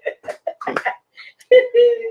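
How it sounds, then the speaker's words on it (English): A single person clears their throat with a few short rasping bursts, then gives a brief voiced hum, close and fairly loud. "Let me clear my throat."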